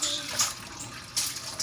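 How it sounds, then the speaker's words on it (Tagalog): Tap water runs while vegetables are rinsed in a kitchen sink, a soft continuous splash with small surges as the stream hits the produce, moderately close and fairly quiet. "Hugasan ko yung gulay."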